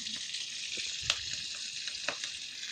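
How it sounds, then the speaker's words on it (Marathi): Chopped vegetables fry in oil in a wok on a gas stove, a steady bright sizzle with occasional crackles and pops, quiet and close, with no talking. "तर आता त्याला भाजून घेत आहेत"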